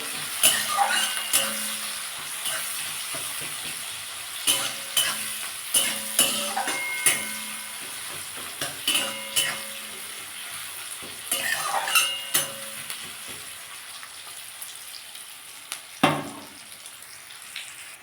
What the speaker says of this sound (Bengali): আমার পেঁয়াজ রসুন সব লাল লাল করে ভাজা হয়ে গেছে